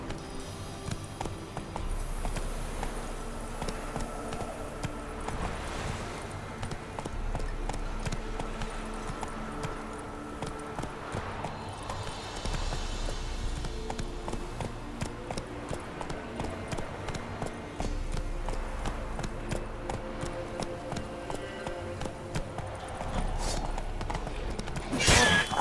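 Roach the horse gallops in The Witcher 3, with steady, continuous hoofbeats throughout over a dense bed of game music and ambience.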